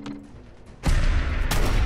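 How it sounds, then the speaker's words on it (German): A gunshot in the video game Fallout 4 lands as a sudden loud, broad blast, followed by a second burst a moment later, with the sound ringing on briefly after each. "Ein Schuss."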